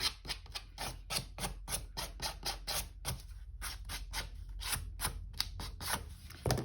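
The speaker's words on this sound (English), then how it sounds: "let me take my scissors and see if I can get it kind of raggedy" Scissors snipping paper in a steady series of crisp, close cuts, about two per second, with no talking.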